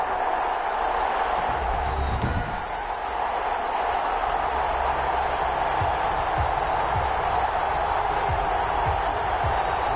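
Stadium crowd roaring in a football video game, Los Angeles Chargers versus London BlackKnights: a steady, dense wash of cheering that holds loud throughout, with a brief swell near the start.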